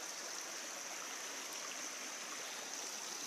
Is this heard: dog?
no